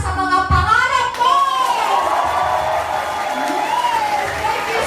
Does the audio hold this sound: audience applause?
yes